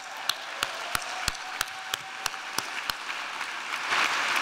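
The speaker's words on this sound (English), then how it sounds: "let's give those folks a round of applause" Guests at a benefit gala in New York clap together in a soft, moderately distant round of applause, with a handful of sharper individual claps popping out over the steady patter.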